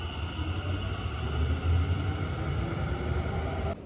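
A train ride toward Yokohama gives a quiet, steady interior rumble with low droning hum and faint rhythmic clatter, continuous for a few seconds before cutting off.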